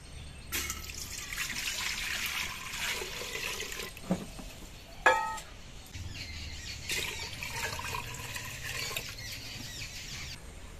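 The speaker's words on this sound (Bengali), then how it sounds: "তার জন্য আমি 2 গুণ জল দিচ্ছি।" Water poured into a pot for khichuri, a continuous trickling and splashing close by, with a brief clatter partway through and the flow resuming after a short pause.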